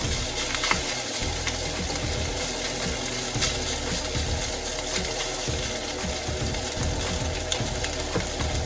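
Spam fried rice sizzling in a pan, a steady dense crackling hiss that continues evenly throughout with no voices.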